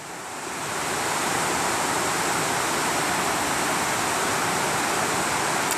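Tat Kuang Si waterfall near Luang Prabang, Laos, gives a steady, dense roar of falling water that swells in over the first second and then holds loud and unbroken.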